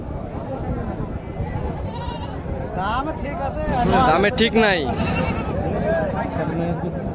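Goats bleat several times in short wavering calls amid a crowd of people haggling at a livestock market, fairly close.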